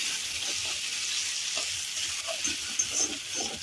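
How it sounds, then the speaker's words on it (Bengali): Fried onion and ginger-garlic paste sizzle in a pan with a soft, even hiss and a few quiet stirring knocks. "পেঁয়াজটা আমি ভেজে নিয়ে এর মধ্যে আদা রসুন বাটাটা দিয়ে দিলাম।"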